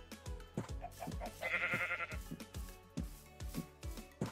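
Sheep in Minecraft bleat repeatedly in a quick series of short, clear calls, several overlapping, with no voices.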